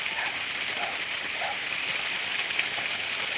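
Water from a solar-powered motor pump gushes into dry farm fields under midday heat, a steady broad splashing rush, close and continuous with no voices.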